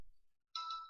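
A single bright electronic ding of a phone notification rings out alone, short and clear after near silence.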